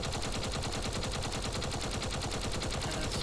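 Video-game Gatling guns hammer a ship with a relentless, fast, evenly spaced stream of shots, loud and steady throughout, with no one talking.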